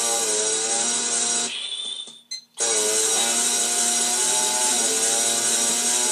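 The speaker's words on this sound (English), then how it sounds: "Now I don't have to listen to that awful racket of a chainsaw." A chainsaw runs in the Shenmue 2 video game during a chainsaw fight, a loud, steady, buzzing whine that drops out briefly partway through, then roars back continuously.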